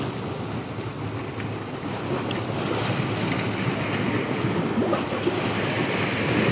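Ocean waves surge and break near a pier in a steady, loud wash with gusty wind buffeting the microphone, building slightly toward the end.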